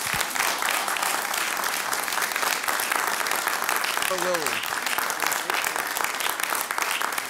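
Sustained applause fills a village board of trustees meeting in Arlington Heights, Illinois, honoring J. Mulder; dense, steady clapping from the room runs throughout, with a short spoken phrase heard briefly over it.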